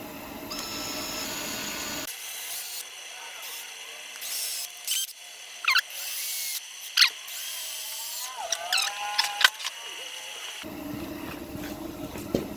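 A power drill bores into a rear main seal on a Subaru in short, intermittent bursts that start and stop unevenly, with quiet gaps between them and broader workshop noise before and after.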